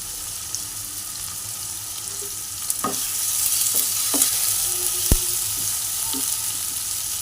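Grated ginger hits a pan and fries alongside prawns and gathi kochu, a soft steady sizzle broken by a few sharp utensil taps and scrapes, no voices.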